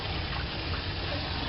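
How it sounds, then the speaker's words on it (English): Cold tap water gushes steadily into a sink while leafy greens are rinsed to wash out sediment, a continuous close splashing wash with no talking. "I'm just trying to wash it to get the sediment out"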